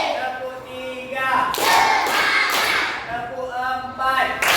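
Schoolchildren at a swimming-pool lesson clap in rhythmic bursts, a group concentration clap ringing loud and close amid chatter and voices.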